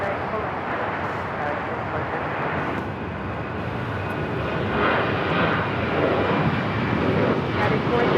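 A jet airliner rolls for takeoff on runway 25 right at Los Angeles International Airport, its engines a steady, loud, broad roar that swells slightly and holds for the whole stretch.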